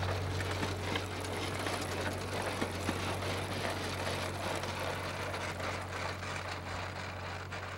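An antique John Deere manure spreader runs steadily, its wheel-driven cog and chain mechanism producing a continuous low mechanical drone with a busy rattling clatter layered on top, constant in level throughout.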